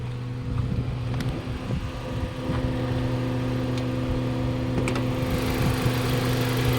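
A Mazda 3 engine idles with the air conditioning running, giving a steady low hum with faint ticking, close and continuous with no talk.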